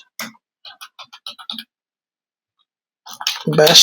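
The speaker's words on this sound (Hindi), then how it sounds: "मैं ये नोटपैड पे इसको टाइप कर लूंगा" Someone types on a computer keyboard into Notepad. A quick, close burst of about eight light key clicks is followed by a pause, then a voice starts talking.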